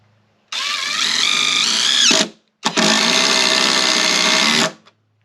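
A Craftsman V20 brushless impact driver with a T20 bit sinks a 3-inch Spax screw in two loud, close bursts of whirring, rapid hammering, separated by a brief pause.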